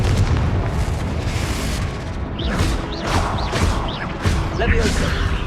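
Confringo explosion spell cast in the Hogwarts Legacy video game, a series of booming magical blasts with crackling bursts over a dense, continuous battle din, with shrill whistling effects repeating in quick succession.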